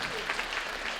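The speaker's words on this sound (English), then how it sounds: "if you can give a round of applause for my Sifu Royal Tan" A brief burst of audience clapping at a graduation celebration, dense and steady, with a faint murmur mixed in.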